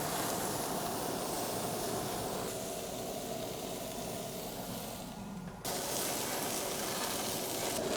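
Burgers sizzle on the hot grate of a Kamado Joe Pellet Joe pellet grill, a dense, steady frying hiss that fills the whole stretch with only a brief dip before resuming.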